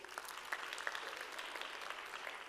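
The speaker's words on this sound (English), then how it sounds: "Can we please give her a warm round of applause?" Audience applause at a panel on financial institutions in mining, a steady dense patter of clapping hands filling the hall at moderate level, with no voices over it.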